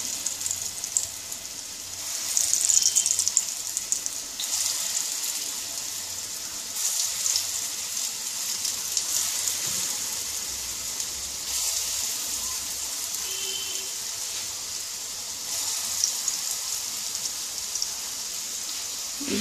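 Lentil fritters (matar dal bora) frying in hot oil in a kadai, a soft, even crackling hiss that swells briefly as batter drops in, fairly quiet and steady, with no voices.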